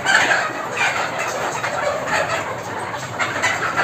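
Laying hens in a crowded poultry egg farm: a dense, continuous chorus of clucking and cackling from many birds, loud and close, with no speech.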